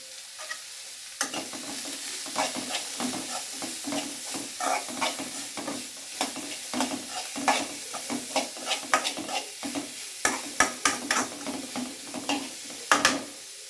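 Chopped onions with salt sautéing in a pan, with a steady sizzle under repeated scraping stirs from a spoon, close and moderately loud throughout.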